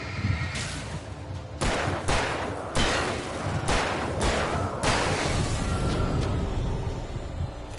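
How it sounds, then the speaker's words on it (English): Gunfire in the video game Alan Wake comes as a string of sharp, loud shots at irregular intervals, each one a crisp burst over a steady background rumble, with no talking. "I'm getting shot."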